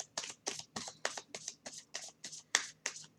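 A deck of cards being shuffled during a tarot-style reading: a steady run of about a dozen crisp riffling snaps, evenly spaced and close up, quiet, with no talking over them.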